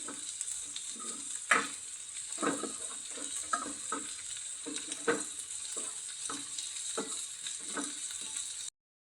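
A spoon stirring chili powder, garam masala and coriander powder into a sizzling egg and drumstick curry in a pan, steady frying hiss with repeated scraping strokes, close up.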